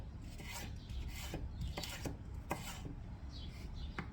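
Knife chopping food on a cutting board while making chicken casserole, a series of sharp irregular taps mixed with scraping and rubbing, close and moderately loud, no talking.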